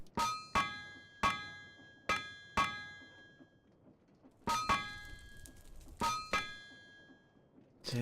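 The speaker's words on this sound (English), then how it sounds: "Oh, I still gotta hammer it." Metallic hammer strikes ring out on an anvil while smithing in Minecraft's TerraFirmaCraft, in uneven bursts of two or three sharp clangs with bright ringing tails, separated by short pauses.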